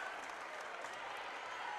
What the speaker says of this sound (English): Delta crowd giving Trevor Burton a cheer.